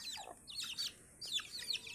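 Several chickens chirp and cluck in quick, high bursts, a few separate calls close by with short pauses between them.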